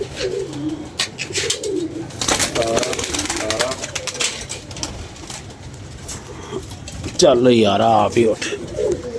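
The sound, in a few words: pigeons cooing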